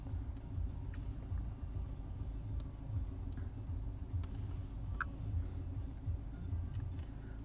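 Inside a moving car, a steady low engine and road rumble drones quietly throughout, with a few faint ticks and no talking.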